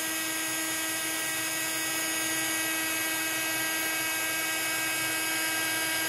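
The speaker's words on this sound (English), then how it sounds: "you're going to move your heat gun over the image" Heat gun blowing hot air over embossing powder on a stamped card, a steady, close, high-pitched whine with a constant airy hiss and no pauses.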